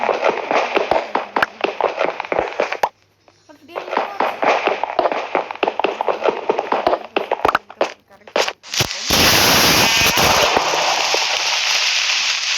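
A loud explosion blast in the video game Minecraft erupts near the end as a broad, roaring burst, following a stretch of voices and clicky game noise.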